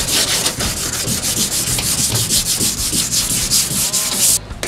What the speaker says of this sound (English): Sanding surface!